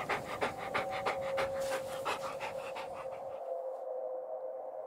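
A dog pants in rapid, rhythmic breaths close by, steady and fairly loud for most of the clip, set in a snowy radio-drama scene, with a faint high tone lingering after the panting stops.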